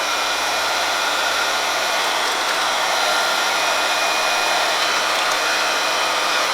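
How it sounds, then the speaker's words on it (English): A heat gun blows a loud, steady, unbroken roar of hot air to melt shrink wrap around glass for sublimation, close and constant with no other sounds. "we're going to use a heat gun, and then we are going to melt the shrink wrap really quickly."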